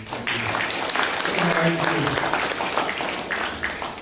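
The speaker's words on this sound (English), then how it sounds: "So just a round of applause for Graham on that one." An audience at a Northern Territory gathering gives a round of applause for an avocado grower awarded the Order of Australia Medal. The steady, moderately loud clapping runs the whole time, with voices audible underneath.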